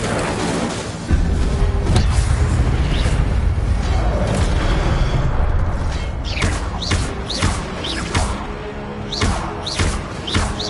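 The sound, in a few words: Incendio fire spell cast in a wizard video game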